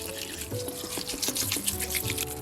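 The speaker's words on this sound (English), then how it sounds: "So I'm going to be using some spring water, which is naturally alkaline, to soak it." Spring water pours over sea moss in a bowl to soak it, a steady splashing trickle with shifting bubbling tones close up.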